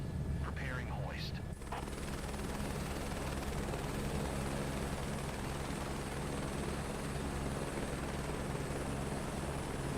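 Rescue helicopter hovering over a search-and-rescue hoist target in Microsoft Flight Simulator 2024, a steady droning rotor and engine hum with a faint high whine, continuous throughout, with a brief voice near the start.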